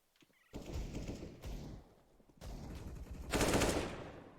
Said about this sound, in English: It is a couple of frags coming through from the AUG and the AK.